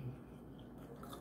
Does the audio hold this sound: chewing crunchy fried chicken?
yes